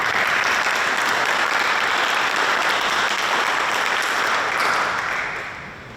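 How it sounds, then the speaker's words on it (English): A crowd at the Shinnecock Heritage Day event in 2024 claps together in a full, steady round of applause that continues evenly for about five seconds, then begins to fade away. "Round of applause."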